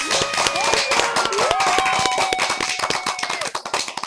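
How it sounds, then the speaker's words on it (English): Applause on a live sports radio show, close and steady clapping with tonal music or sound effects running over it for about four seconds. "Let's give her a round of applause."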